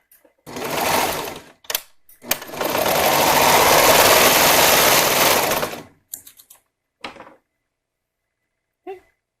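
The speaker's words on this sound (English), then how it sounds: "you're going to sew these short edges together, creating a circle." A sewing machine stitches the short edges of fabric together, first in a brief run, then in a loud, steady whir lasting a few seconds close by, followed by scattered handling clicks and quiet.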